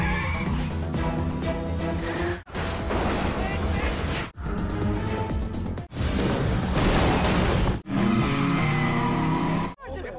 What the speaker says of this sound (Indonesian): Adegan kejar-kejaran mobil pun terlihat.